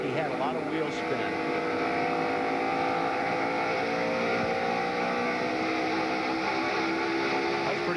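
NASCAR stock car engine at Rockingham accelerating off a corner, a loud sustained V8 roar with steady harmonic drone, heard from on board with commentators talking over it.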